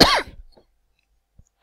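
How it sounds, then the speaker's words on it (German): A single sharp cough, close and loud, cuts off quickly into near silence, with a faint soft click after it. "Ein Huster."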